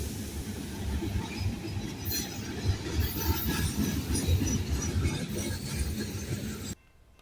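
A freight train led by Alco locomotives, an MLW M420 among them, rumbles past with steady wheel noise, clatter and faint squeals, close and continuous before cutting off at the end.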